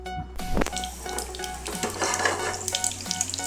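Mustard seeds splutter in hot oil for a bitter gourd pickle, making a busy crackling sizzle with scattered pops and faint clinks of a pan, up close and without talk.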